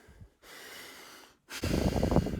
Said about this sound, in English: I'm breathing nice and clearly through my nose, even while doing intense exercise